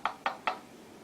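The Knocking Live iPhone app plays its knock alert sound, three quick evenly spaced raps close to the microphone, followed by a brief quiet tail.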